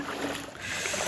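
Strong floodwater from the Ghatal flood rushes past in a steady, loud broadband roar, close and continuous without pause.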